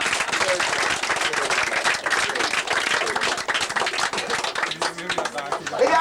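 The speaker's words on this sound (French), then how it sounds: "je crois qu'on peut quand même l'applaudir très très fort" An audience at a flea circus show claps loudly and steadily in a dense burst of applause, with a voice talking over it near the end as the clapping thins out.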